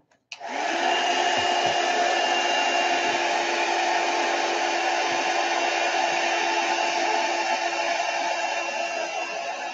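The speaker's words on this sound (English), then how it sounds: "go ahead and use the heat gun" A heat gun blows steadily to dry a mixed media page, a loud, continuous broadband whoosh with a constant hum that starts abruptly and runs unbroken, no talking.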